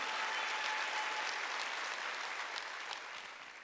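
Congregation at a Wednesday church service claps together in a sustained, fairly loud burst of many hands, steady at first and gradually thinning toward the end.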